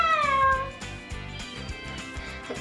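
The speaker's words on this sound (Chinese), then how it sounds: "为什么猫它就是你只要进来厕所它就会在那个门口叫呢？" A house cat meows outside a closed bathroom door, a short drawn-out cry at the start that falls in pitch, heard over steady background music.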